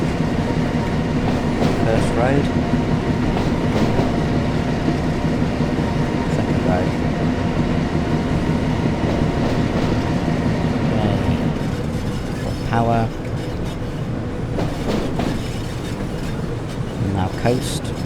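Train in the Train Sim World game shunting stock around the yard at Blackpool North, a continuous rumbling run along the rails with low engine drone and a few clicking wheel sounds, steady and close throughout.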